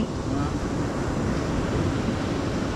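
Big sea waves roll and wash steadily around a boat on a night crossing, a dense, continuous rushing surge with wind noise that stays loud and unbroken throughout.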